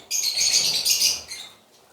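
Pet birds in a colony cage chirp in a dense, bright chorus of overlapping tweets, close and fairly loud for over a second before thinning out.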